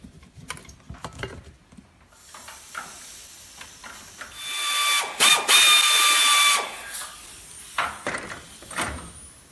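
Ratchet wrench clicking while removing an alternator and belt tensioner from a shop truck engine, with bursts of close mechanical ratcheting and metallic rattles, the loudest stretch in the middle, no talk.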